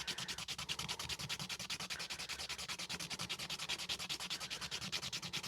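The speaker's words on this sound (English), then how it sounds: "Just a quick little sand." Sandpaper rubbed against a woodturned gnome spinning on a lathe, a fast steady rasping with a regular pulsing rhythm, close and fairly quiet, no voices.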